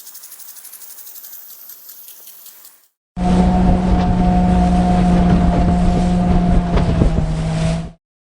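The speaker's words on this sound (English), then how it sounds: "You heard a speedboat in water." A speedboat motors across open water with a loud, close, steady engine drone and a constant tonal hum for about five seconds, after a short, quieter stretch of unrelated hiss.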